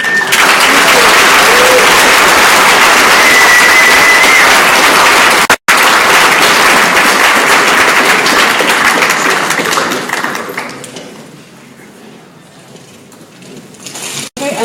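A crowd gives a big round of applause for the panellists at a Friday night panel event. The clapping is loud and sustained for about ten seconds, then thins out and tails away into quiet room sound.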